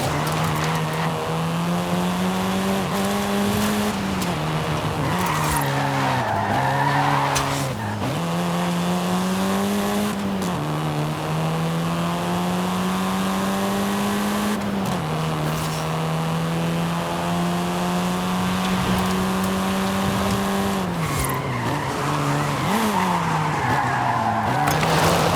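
Car driving in the video game Forza Horizon 5: a steady, loud engine drone with rising and falling pitch through gear changes, and tires squealing and skidding through turns, continuous with no voices.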